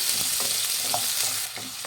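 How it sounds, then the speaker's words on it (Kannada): Finely chopped, washed radish frying in hot oil, a loud dense sizzle heard up close, with soft stirring scrapes and a slight dip in intensity near the end. "ಮೂಲಂಗಿನ ಚೆನ್ನಾಗಿ ಹುರಿಬೇಕಾಗುತ್ತೆ ಎಣ್ಣೆಯಲ್ಲಿ."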